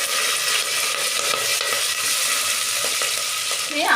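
Whole spices such as bay leaf, star anise, cardamom, cloves and shahi jeera fry in hot oil in a pan for chicken biryani, giving a steady close sizzle throughout with faint stirring scrapes.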